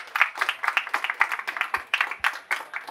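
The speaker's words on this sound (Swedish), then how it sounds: "En applåd." Brief, sparse clapping from a small studio audience welcoming a guest, with separate claps in an uneven rhythm, close by and moderately loud.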